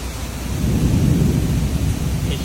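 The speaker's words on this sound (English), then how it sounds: "It's right over us, but it's a big storm." A heavy thunderstorm over Houston floodwaters, heard from a car sheltering under a bridge: a deep, rolling thunder rumble swells and lingers under the steady wash of pouring rain.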